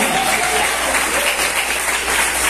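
Steady, dense clapping from a church congregation praising God, filling the room evenly from start to finish with no pauses or voices standing out.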